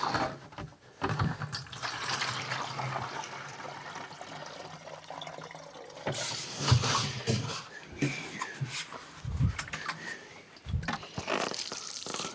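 Water pours from a 7-gallon container onto a garden bed, a steady close splashing flow with uneven surges and a few brief breaks; no talk over it.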